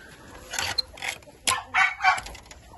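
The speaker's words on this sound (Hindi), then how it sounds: "इसके बाद में हमारे पास आ जाए ये बैंटम की ब्रीड" Bantam chickens in a farm breeding pen cluck and crow in several short bursts, close and fairly loud, with quiet gaps between calls.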